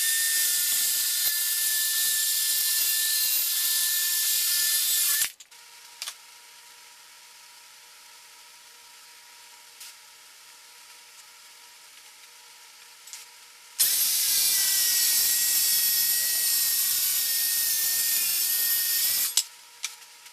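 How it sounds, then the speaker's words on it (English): A circular saw rips the zero-clearance plywood edge off a homemade saw guide: two loud sustained cuts with a whining motor, separated by a quiet pause with small clicks, ending with a brief knock after the second cut. "So now I'm going to just go ahead and cut this zero clearance off."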